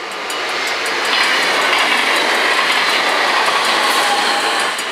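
A train rolls loudly past a Dutch railroad crossing in Oisterwijk, a steady close rush of wheels and rail noise with faint clicking, swelling slightly and holding for the whole stretch.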